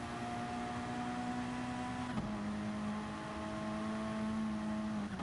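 A race car engine in a GR3 Evo Cup racing video game drones steadily, then its pitch drops sharply as it brakes and shifts gears, dipping again near the end.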